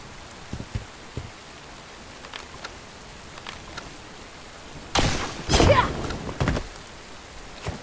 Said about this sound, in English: But apart from the rain, there's nothing unusual over here.